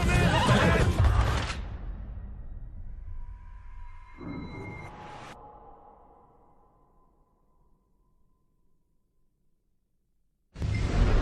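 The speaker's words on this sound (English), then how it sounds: "come on, we'll take those horses" Horses in the Red Dead Redemption 2 video game give a loud, long whinny up close, then a second whinny fades away into near silence before a burst of louder game sound returns at the end.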